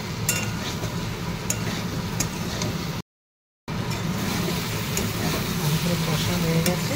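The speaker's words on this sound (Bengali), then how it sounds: "সয়াবিনগুলো দিয়ে হালকা কষি" Potatoes and soy chunks sauté in a hot pan while being stirred, giving a steady, dense sizzle with a constant frying hiss throughout and one brief gap of silence partway through.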